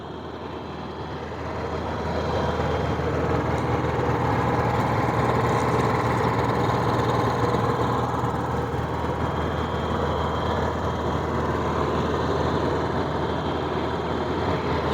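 Two inverter generators, a Honda and a Powerhorse 7500, run side by side, their engines swelling after a couple of seconds into a loud, even, continuous hum with no talking.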